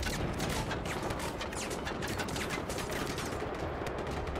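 Enemy soldiers in Just Cause 3 fire a dense, continuous barrage of gunfire, rapid overlapping shots forming an unbroken, fairly faint rattle with no pauses.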